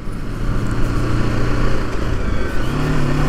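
A TVS Apache RTR 310 motorcycle engine revs hard at high RPM, a loud, continuous close-up drone with rising pitch near the end and no talking over it.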